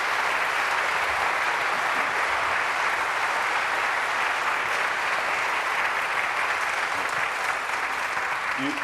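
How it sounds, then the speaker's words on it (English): Sustained applause from a lecture audience fills the room evenly at the close of a talk on faith and boys and girls, dense and steady throughout with no voices over it. "After that, everyone applauds for you."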